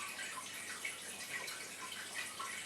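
Sloe gin pouring through a coffee filter at home, a steady soft trickle of liquid running continuously throughout, fairly quiet and with no talking.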